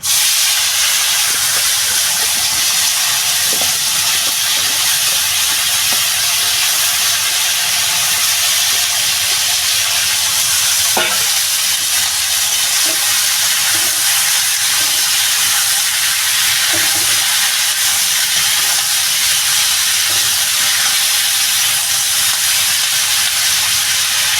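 Washed vegetables for a cauliflower and bean curry with tilapia hit hot oil with ground coriander and cumin, giving a loud, continuous sizzling hiss with a few faint clinks from the pan.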